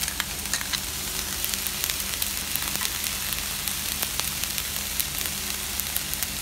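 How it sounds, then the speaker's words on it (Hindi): Chickpeas sizzling in a hot pan for lal bhaji, a dense continuous crackle and hiss close by with scattered pops and light stirring scrapes, no voices. "अब मैं 1 कटोरी चना डाल रही हूँ इसमें"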